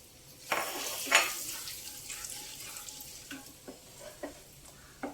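Urad dal, mustard seeds, cumin and dried red chillies frying and being stirred in a pan, a soft steady sizzle with a few brighter crackling bursts and scattered clinks, close and fairly quiet.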